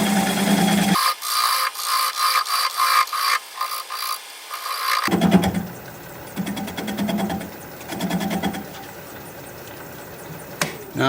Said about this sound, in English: I'm turning it about 600 RPM.